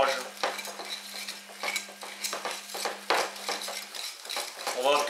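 A spoon stirs coarse almond paste flavoured with a little orange blossom water in a bowl, giving repeated scraping and clinking strokes at a steady pace, close up with no talking.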